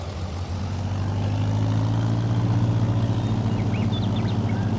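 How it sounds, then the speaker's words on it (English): Tractor engine in Farming Simulator 22 running at a steady, low, rumbling idle-like drone, loud and continuous throughout with no talk. "Lovely purr of the engine."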